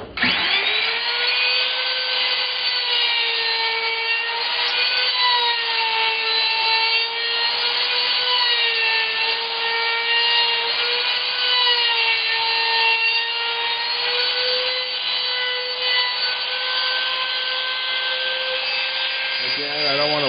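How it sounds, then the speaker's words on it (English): A trim router fitted with a 1/8 inch round-over bit cuts the edges of a wooden grid board, a steady loud whine with bright harmonics that holds for about twenty seconds before winding down at the very end. "Then I take my trim router. Okay, with an 1/8 inch round over bit on it, and I round off everything on this side."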